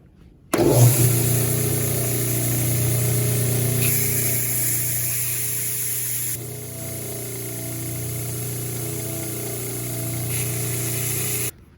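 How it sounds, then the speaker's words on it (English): Horizontal belt sander starting up and running steadily while sanding the protruding fret wire edges flush on a guitar fretboard, a loud continuous motor whine with grinding contact noise and slight shifts in pitch, no talking. "we'll come over to our horizontal belt sander and we're just gonna sand these edges anywhere where these fret wires kind of poke out a little bit"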